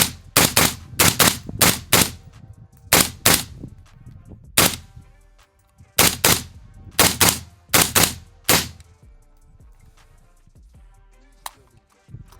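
Rifle fired with a flow-through buffer system using steel-cased ammunition: loud, sharp gunshots in quick clusters of two to four, each with a short ringing tail, near and alone with no talk.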